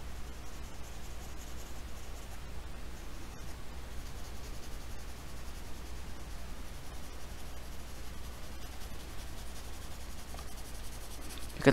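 Steady scratchy rubbing of a pencil shading grass in a landscape sketch of an old barn and tree, continuous and close with no talk.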